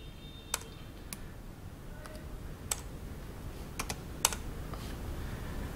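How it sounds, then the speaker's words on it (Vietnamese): Keys on a 2018 15-inch MacBook Pro with a third-generation butterfly keyboard tap in quick, irregular clicks, close but soft, over a faint steady background hiss with no talk. "Duy chỉ có bàn phím được nâng cấp lên cánh bướm 3"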